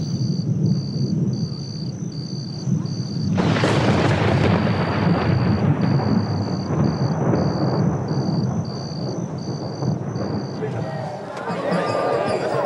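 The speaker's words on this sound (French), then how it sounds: "L'orage gronde." Thunder rolls in long, low rumbles during a storm near Lake Victoria in Kenya, swelling into a louder crack partway through, while insects chirp steadily in the background.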